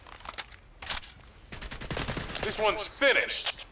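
Gunfire in the online shooter Hired Ops: several sharp bursts and single shots crack out across the clip, some dense and rapid, with a voice briefly speaking between them.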